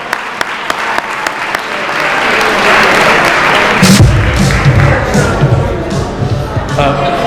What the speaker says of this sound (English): Let's give everyone a round of applause